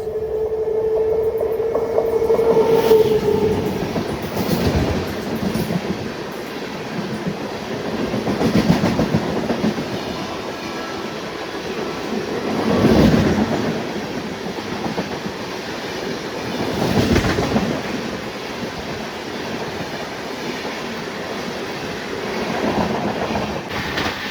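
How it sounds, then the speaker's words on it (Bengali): The 22387 Black Diamond Express, an Amrit Bharat Express, rolls past at close range with loud, sustained rumble, steady clickety-clack of wheels over rail joints and a brief wheel squeal early on, with no voices. "এই সামনে আসছে কিন্তু 22387 ব্ল্যাক ডায়মন্ড এক্সপ্রেস, অমৃত Bharat express, black diamond express"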